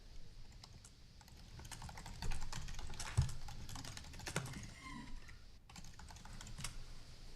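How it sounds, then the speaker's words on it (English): Typing on a computer keyboard during a council meeting, a close run of quick, irregular key clicks with a few louder taps and short pauses, heard alone without talk. "I'm just typing this in for the Ursula"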